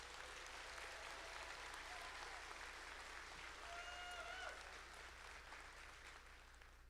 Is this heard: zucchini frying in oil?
no